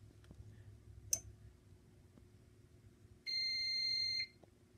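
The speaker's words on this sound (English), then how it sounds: "first of all, it'll sound a pre-signal alarm." A fire alarm system on a sprinkler riser gives its pre-signal alarm: one steady electronic tone of about a second after a sharp click, against a quiet room hum.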